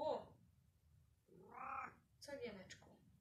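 A domestic cat meows in three separate calls, the first short, then a longer rising meow and a final sharper one, close and fairly quiet in an indoor room.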